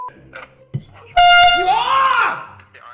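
A giant air horn fires one loud, blaring blast that holds for well over a second and drowns out everything else, after a few brief softer sounds and a voice.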